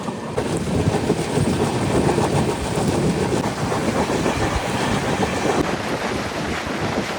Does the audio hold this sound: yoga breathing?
no